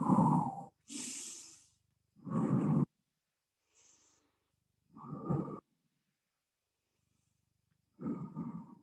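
Deep breaths exhaled during a gentle exercise class, several slow separate blows with silent gaps between them, close and fairly soft, with no talk.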